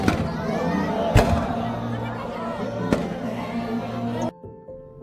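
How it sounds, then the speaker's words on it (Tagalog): Fireworks crack and boom over a Disney cruise ship at night, two sharp bursts standing out above a continuous murmur of crowd noise and nearby talk, ending abruptly. "We watched some fireworks that night."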